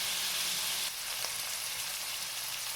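Onions and peppers frying for fajitas in a single skillet, a steady bright sizzle with a continuous hiss throughout, close and even in level, with no talking.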